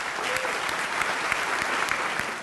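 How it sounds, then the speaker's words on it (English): Applause from the audience at a gala dinner, a steady continuous wash of many hands clapping at moderate distance, with a few sharper individual claps standing out before it tapers slightly at the end. "Try not to be the first one to stop applauding"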